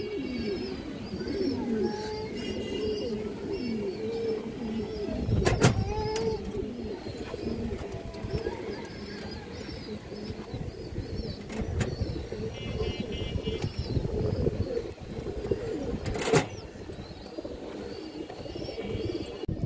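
Pigeons, including rubber-type fancy breeds, coo softly and repeatedly at a market or loft while a car passes nearby and background bustle continues throughout.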